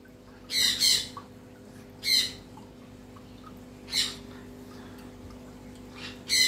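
Pet birds in a home collection give short, harsh squawks in three or four bursts with gaps between them, fairly close, over a steady low electrical hum.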